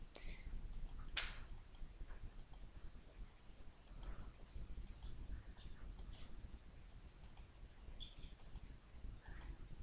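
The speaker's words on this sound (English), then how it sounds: "So you click through by clicking on the left and right arrow buttons here." Crisp computer mouse clicks while paging through an e-book in Adobe Digital Editions, a sparse run of light, close ticks over faint room hiss.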